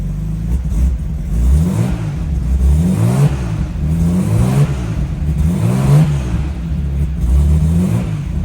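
A Nissan Skyline R34 GT-R with a single-turbo RB30 engine drives onto a trailer, its engine revving in repeated rising and falling bursts, loud and close, with no talk.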